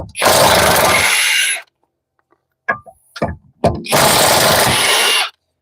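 Two long, loud bursts of a pneumatic impact wrench hammering off wheel lug bolts, separated by a quiet gap with a few short clanks and rattles.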